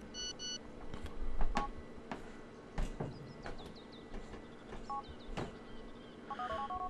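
A phone number is keyed in Grand Theft Auto IV, with short electronic dial-tone beeps in small bursts spread across several seconds over quiet game ambience and scattered clicks.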